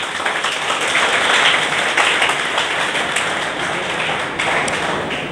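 A crowd claps at a NEET-2022 student ceremony held by a coaching institute, with dense, loud and fairly close applause running continuously throughout.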